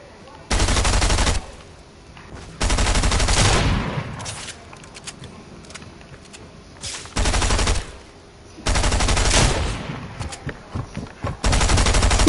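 SMG fire in Fortnite, several loud, close bursts of roughly a second each separated by short quiet gaps, ending with scattered single shots and another burst.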